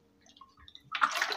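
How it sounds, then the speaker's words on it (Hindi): Water drunk from a container, a short close burst of splashing and gurgling sounds after quiet small noises, with no speech. "पानी पी लेते हैं थोड़ा"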